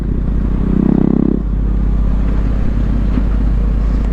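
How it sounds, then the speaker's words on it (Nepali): A KTM Duke 250 motorcycle with its exhaust baffle removed rumbles loudly and close by, with a brief louder rev near the start, then settles into a steady, throaty drone. "एक्जस्ट सट्ट निकालिदियो साउन्ड लाउड आइहाल्यो"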